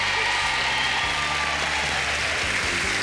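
Studio audience on the Brazilian TV show O Céu é o Limite claps to welcome a guest: a continuous wash of crowd applause, dense and sustained, with a low hum of music or room noise beneath.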